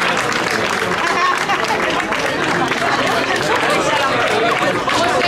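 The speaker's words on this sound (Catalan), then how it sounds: "Aplaudiments per tots ells" A crowd at a race's trophy and prize ceremony applauds in a steady, dense wash of clapping mixed with lively chatter, loud and continuous throughout.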